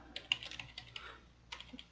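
Quiet, close clatter of fingers typing a short command on a computer keyboard: a brief run of light key taps, a pause, then a few more taps.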